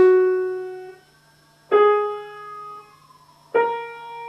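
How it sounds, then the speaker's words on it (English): Three separate piano notes on the black keys, each struck slowly with one finger and left to ring and decay before the next, heard alone in a quiet room. "play every black key in groups of 3 with a good piano hand."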